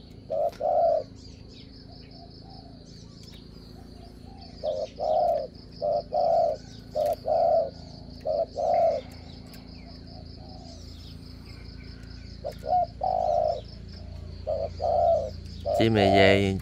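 A spotted dove coos in repeated short phrases from a wild-caught bird, the calls coming in loose groups with gaps between them, fairly close and clear over a steady insect hum.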